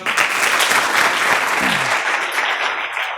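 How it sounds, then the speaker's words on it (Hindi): A crowd claps steadily and loudly, with dense applause that continues throughout and a voice briefly audible beneath it. "तालियां"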